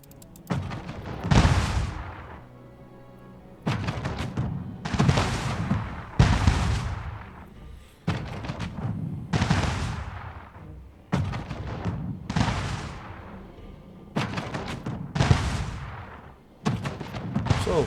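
Repeated heavy cannon blasts and gunfire pound a ship under attack in Anno 1800, with about ten loud booms in an irregular rhythm, each separated by short lulls.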